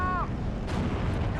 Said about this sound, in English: I think he's shooting at a Crusader.